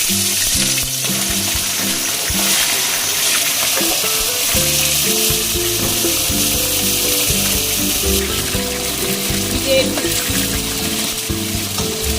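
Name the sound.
spice paste frying in hot oil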